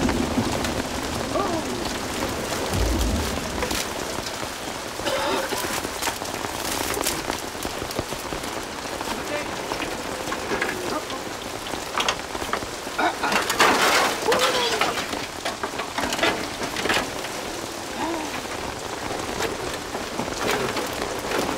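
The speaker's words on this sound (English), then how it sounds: "Because the rain is back." Rain falling steadily in a Mofu village, a continuous close patter of drops on surfaces with scattered louder splashes, lasting throughout at an even level, with some faint speech mixed in.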